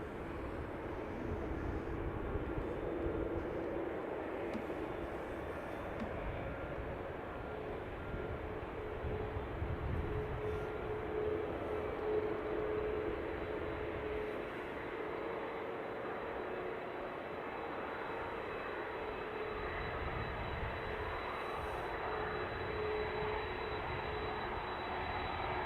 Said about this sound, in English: Aer Lingus A330 from Chicago.